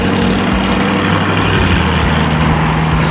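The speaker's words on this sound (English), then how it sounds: "It sounds like a diesel. It's got such a derpy exhaust on it." A Lamborghini with a derpy, diesel-like exhaust idles close by in cold weather, a steady low, rough engine drone filling the scene with no talk over it.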